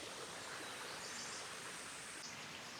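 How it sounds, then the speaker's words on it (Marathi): Steady broadband rush of a stream flowing beneath a forest hillside temple on the route to Baronda Devi near Virar, continuous and fairly quiet without a break, with no voices. "खालून पूर्ण पाणी जाते. पाण्याचा आवाज येत असेल तुम्हाला"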